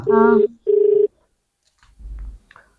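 An office phone rings with an incoming call, two loud close electronic rings in quick succession, followed by a pause and a brief low thump.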